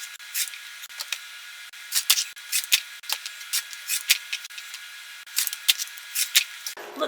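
Scissors trim fabric quilt blocks to six inches with a series of crisp, close snips in irregular bursts separated by short quiet gaps.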